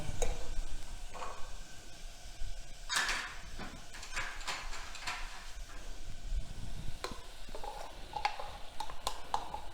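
Chicken being stirred in a pan with ground masala paste, a soft sizzle with repeated scraping and clinking of a spoon against the pan, faint and close, no speech.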